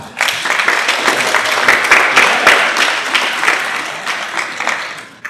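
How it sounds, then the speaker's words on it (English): A lecture audience gives a sustained round of applause, dense and loud from many hands clapping together, holding steady for several seconds before thinning out near the end. "Give Jerry a round of applause."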